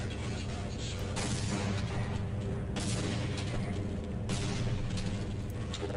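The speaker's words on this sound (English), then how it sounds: "You can actually toss a few grenades up here." Grenade explosions in Half-Life, a steady loud roar of game noise broken by several heavy booming blasts at intervals, with no talk over it.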